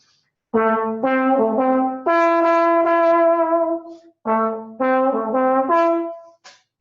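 An open trombone plays a short melodic phrase with a long held note in the middle, bright and full-toned, close up with no other sounds.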